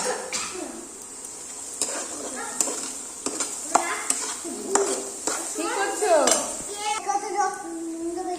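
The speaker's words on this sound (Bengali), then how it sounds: "এ দেখো হুম আর একটু ভাজা হবে" Chickpeas frying and being stirred in a pan for a toy-kitchen cooking game, a steady close sizzle with scraping stirs and light clinks of utensils, while someone talks over it.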